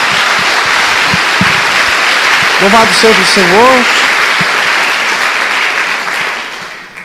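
A church congregation applauds in dense, steady clapping that fills the space for most of the stretch, with a voice speaking briefly over it midway before the clapping fades out near the end.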